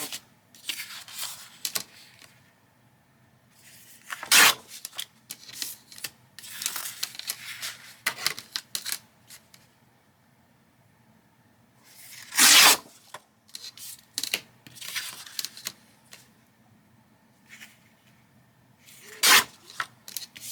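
Scissors cutting out a paper trifold journal insert, with irregular bursts of crisp snipping and rustling paper, several louder cuts among quieter handling noises, close up and without talk.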